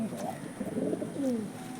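Andhra Kalshira pigeons coo softly in a few low, rolling calls close by, with faint background voices underneath.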